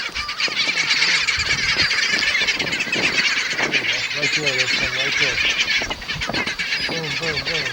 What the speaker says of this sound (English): The birds woke us up again this morning.